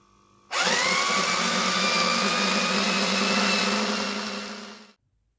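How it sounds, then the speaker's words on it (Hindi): An electric food chopper whirs at a steady high pitch while chopping kebab mince ingredients, starting abruptly, running loud and close for about four seconds, then winding down and stopping. "अब हम इसको डालेंगे चॉपर में और इसको अच्छे से हम चॉप कर लेंगे"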